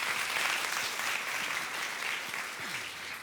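A crowd claps steadily in a hall, soft and somewhat distant, with a few faint low voice sounds underneath.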